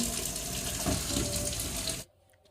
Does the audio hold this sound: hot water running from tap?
yes